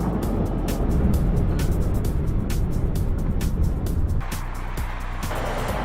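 A 2010 Rolls-Royce Phantom Drophead Coupe accelerates at full throttle, a steady, loud engine and road roar that eases slightly toward the end.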